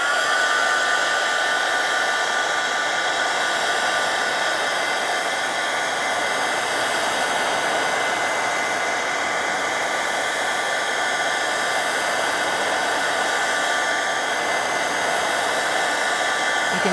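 Steady hair dryer blowing on a watercolor background painted with Distress Inks, a loud, continuous close whooshing hum that holds unchanged throughout without any voice.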